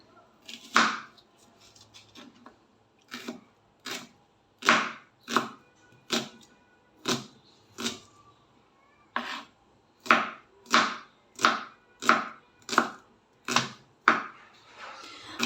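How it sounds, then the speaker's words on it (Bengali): A knife chops an onion on a cutting board in a run of sharp, close knocks, irregular at first and then settling into a quick, steady rhythm with short pauses between strokes. "এবার আমি পেঁয়াজটা কেটে নিচ্ছি"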